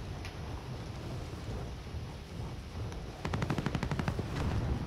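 Call of Duty video game gunfire: a steady low rumble of battle noise, then a rapid burst of repeated automatic shots toward the end, moderately loud with no talk.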